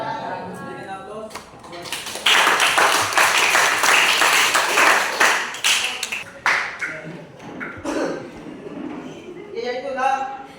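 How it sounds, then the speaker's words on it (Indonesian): A classroom audience bursts into dense, lively clapping after group presentations, swelling for several seconds and then thinning into scattered claps, with voices faintly underneath. "Berikan aplaus."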